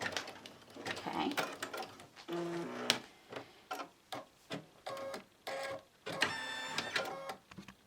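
An embroidery machine stitches a short placement line for an in-the-hoop Greek key tissue holder, heard as quiet mechanical whirring bursts with pitched motor tones and ticking, stopping and starting in short close segments.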